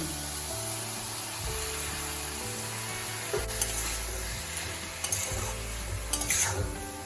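Chicken and broccoli frying in a pan while being stirred, a constant sizzle under a low hum, with a few crisp scraping and clinking stirs toward the end.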